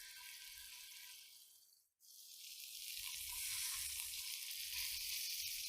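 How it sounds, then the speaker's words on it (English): Pork tenderloin searing in hot oil in a pan gives a steady, close sizzle that drops out briefly, then comes back louder and keeps crackling evenly to the end. "I'm going to get my pork in and just let it sit there until it's sealed on that one side"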